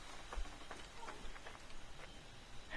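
Faint, steady patter like rain or rustling leaves in the ambient soundscape of the Assassin's Creed Origins video game, a soft continuous hiss with light scattered ticks and no other sounds over it.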